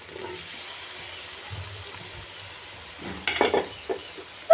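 Dried fish fries with onion, garlic and green chili, a soft steady sizzle that turns into a few louder bursts of stirring and clatter near the end.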